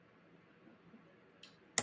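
A single sharp computer mouse click lands near the end, with a fainter click shortly before it, over a quiet low hum of room noise.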